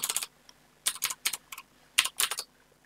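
Fingers typing HTML script code on a computer keyboard, close clicky keystrokes in three or four quick bursts separated by short pauses, no voices.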